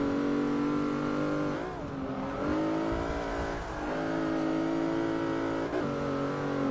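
Several car engines race in Forza 6, one driving a Plymouth Prowler, holding a loud, steady harmonic drone close up, with brief dips and pitch sweeps as gears shift, continuous and without talk.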